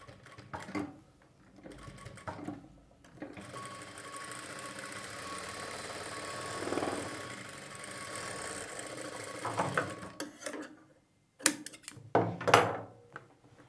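A sewing machine stitches a double strip on a plain blouse, its motor whirring in steady runs broken by short pauses and a few clunks as the fabric is repositioned.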